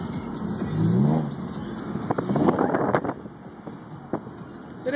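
Cabin sound of a Lexus IS350 fitted with a Tanabe exhaust and no resonator, driving at night in the city: two short engine swells rise and fade under music and a low road rumble.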